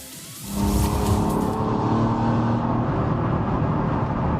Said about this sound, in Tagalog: Ang dashcam video niya ilang segundo bago nag-apoy ang kanyang minamanehong sports car.